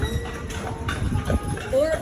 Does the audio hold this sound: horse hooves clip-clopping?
yes